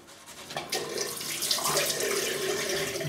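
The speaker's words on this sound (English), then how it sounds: "Just adding more water." Tap water runs steadily into a sink to wet a soft shaving brush, a continuous close splashing flow that builds after a brief start, with no voices.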